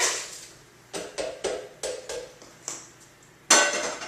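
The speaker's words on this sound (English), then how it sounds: "So I'm going to go ahead and put it into the blender" Asparagus soup is transferred into a blender with a series of sharp clinks and knocks of utensil on pot, about seven separated taps, closing with a louder clatter.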